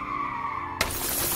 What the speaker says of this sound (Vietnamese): Nhưng sau khi xe buýt mất đi khống chế, liền lao vào một tòa cao ốc.